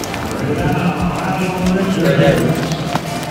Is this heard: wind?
no